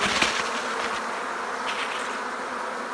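A queenless honeybee colony, inspected with the hive open, fills the air with a loud, steady buzzing and humming that holds constant throughout, close by and with no talk over it.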